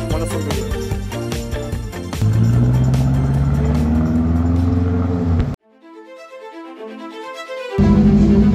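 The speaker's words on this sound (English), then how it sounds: "it doesn't have no mufflers for some reason" A wrecked, rusted Subaru engine runs with no mufflers, a loud, raw, unsilenced roar that rises in pitch, drops away sharply for a couple of seconds, then surges back hard.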